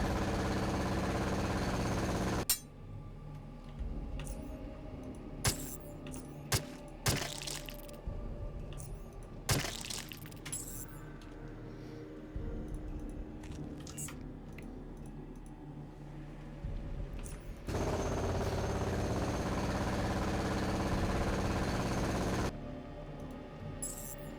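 A jackhammer weapon fires in the video game Underrail, with long, loud grinding bursts at the start and again near the end, and sharp cracks and clatter scattered between them.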